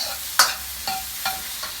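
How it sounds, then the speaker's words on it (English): Chicken satay skewers fry in a pan with a steady background sizzle, broken by four distinct scraping stir strokes spaced about half a second apart, the first one loudest and close. "So we stir that around."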